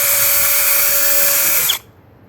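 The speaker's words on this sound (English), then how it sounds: "So what we're going to do is drill a hole" A power drill whines steadily at high speed while boring a speaker-mounting hole in a Harley-Davidson Ultra Limited, then cuts off abruptly near the end, leaving near silence.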